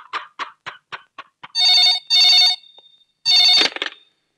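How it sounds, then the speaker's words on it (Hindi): An old-style telephone rings loudly in a Hindi movie scene: a series of short rapid clicks, then three sustained bell-like rings, the last one cut off abruptly, with no voices. "ओ सर गुलशन का फोन।"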